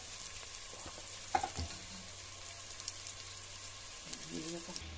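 Onions cook in a pan with a quiet, even sizzle, broken by a few soft clinks and scrapes of stirring, with no talking.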